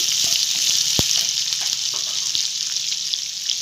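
Curry leaves dropped into hot oil with onions for crispy lady finger fry crackle in a bright, steady sizzle, one sharp pop near the start and small spatters throughout, close up and without talk.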